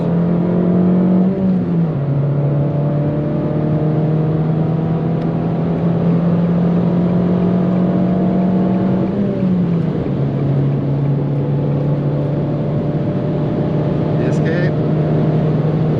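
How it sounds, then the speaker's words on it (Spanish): An Abarth 595's engine roars continuously at high revs on a German autobahn, its pitch dipping briefly twice as the car shifts gears before climbing and droning steadily again. "El sonido es brutal de este coche,"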